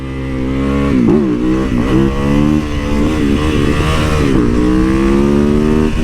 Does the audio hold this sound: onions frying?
no